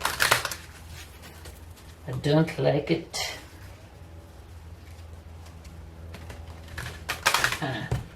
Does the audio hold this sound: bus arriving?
no